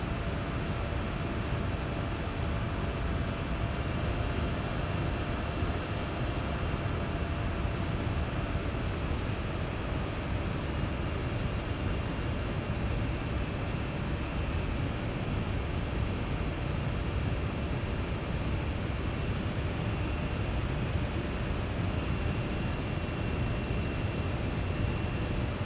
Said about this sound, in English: it's increasing the fan speed